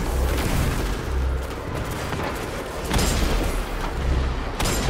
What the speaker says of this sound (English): I guess you just keep firing into the abyss.